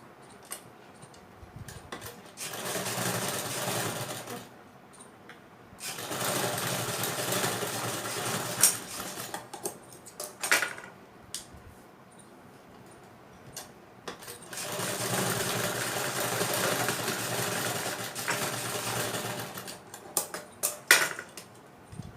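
A sewing machine stitches a simple blouse in two long runs of steady whirring separated by pauses, with small clicks and handling noises between bursts.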